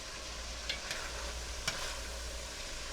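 Sausage browning in a pan for sausage and beans soup, a soft steady sizzle with a few faint scrapes and taps of stirring, no voices.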